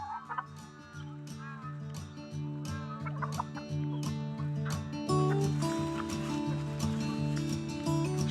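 Farmyard fowl calling steadily over eight seconds, a dense chorus of harsh, repeated squawks and gobble-like cries from nearby birds, with poultry clucking mixed in and no talking.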